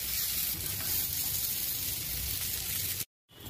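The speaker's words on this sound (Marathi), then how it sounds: "ह्या आपल्या टिक्क्या शालो फ्राय करून झालेल्या आहेत" Rajgira tikkis shallow-frying in oil in a pan give a dense, steady sizzling hiss, close and loud, which cuts out abruptly near the end before resuming briefly.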